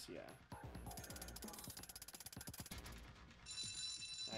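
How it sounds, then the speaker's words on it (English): A fire alarm bell rings in the video game 9 Hours, 9 Persons, 9 Doors: a rapid, rattling metallic clangor in quick pulses that carries on steadily through the short stretch. "You set off the fire alarm."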